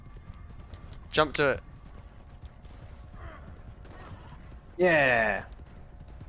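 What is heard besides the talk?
horse hooves and whinny in Red Dead Redemption 2 video game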